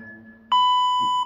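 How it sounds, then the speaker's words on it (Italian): A timer gives a single loud electronic beep lasting under a second to start a timed strength hold in a group workout, with faint background noise before it. "Marco, vai col timer"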